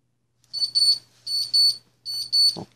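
A Water Sensor 6 water leak detector sounds its alarm: three pairs of shrill, high-pitched electronic beeps in a steady rhythm, close and clear, followed by a brief soft thump.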